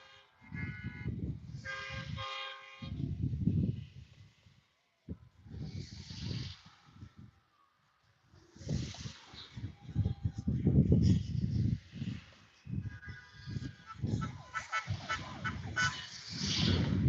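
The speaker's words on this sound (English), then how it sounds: "Quite a few of them are honking." Car horns honk in repeated short bursts along the street at a rally in Mississauga, Ontario, some close and loud, others farther off, separated by brief quiet gaps.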